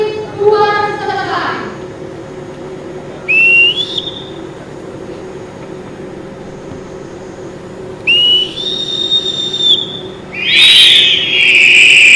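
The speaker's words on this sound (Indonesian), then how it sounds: "berhasil melaksanakan peniupan peluit khas Angkatan Laut secara bersamaan dengan jumlah terbanyak" Hundreds of naval boatswain's pipes are blown together by about 350 Saka Bahari sea scouts in Makassar for a record attempt, heard as several shrill rising whistle bursts that swell and fall over crowd murmur and chatter.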